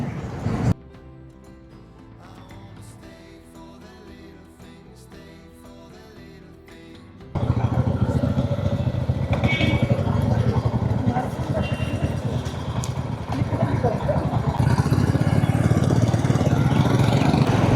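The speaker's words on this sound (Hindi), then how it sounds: "वो जो आगे बाइक जा रही है" Music plays at first, then a loud steady engine roar with wind and road noise takes over, like a motorcycle cruising at speed on the Kinnaur–Shimla highway in Himachal.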